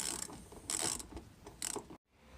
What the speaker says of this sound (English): So I've grabbed my wrench, I've got an extension, and I've got a 10mm bolt at the end, and I'm just going to take these out of here.